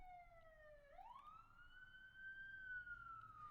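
An emergency vehicle siren wails outside at a distance, its pitch dipping and then sweeping up into a long sustained tone, faint against low background rumble with no talking.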